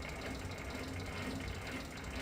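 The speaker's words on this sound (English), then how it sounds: "So this is with the carriage in gear, and I can pull it down to 144 RPM." A new lathe runs steadily at 144 RPM with the carriage in gear, a faint continuous mechanical hum and whir without breaks, heard alone.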